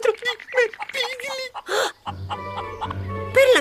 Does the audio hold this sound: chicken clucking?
yes